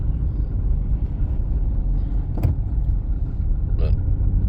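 Car interior road noise from a Honda Civic being driven, a steady low rumble of engine and tyres throughout with a couple of brief faint clicks, no talk.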